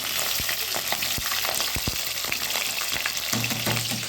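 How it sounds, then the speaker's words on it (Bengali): Potatoes frying in hot oil for a meat curry in a home kitchen, a steady close hiss of sizzling with occasional clicks of a utensil moving them about, no voices. "এবারে মাংসের জন্য আলু ভেজে নিই।"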